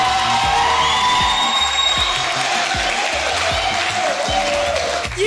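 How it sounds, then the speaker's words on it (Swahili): An audience claps and cheers loudly, with dense continuous applause, whoops and shouts filling the whole stretch at close range. "Nipigieni makofi mbunge tarajiwa."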